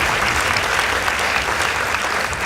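An audience applauds two high school debate teams after the winner is announced, a thick, even wash of clapping sustained at a strong level from start to finish.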